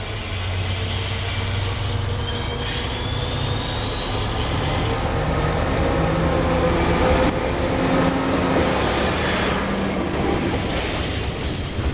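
A Güstrow–Krakow–Malchow train passes close by, a steady loud rumble of wheels on rails with high metallic squealing tones running throughout, no voices.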